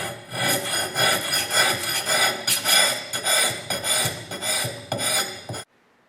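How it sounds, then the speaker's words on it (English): An axe being sanded by hand with 180 grit pressure-sensitive adhesive sandpaper: a steady, close rasping rub in quick back-and-forth strokes for several seconds, stopping abruptly near the end, with no talking. "So I'm going to continue with the 180 grit sandpaper, PSA sandpaper."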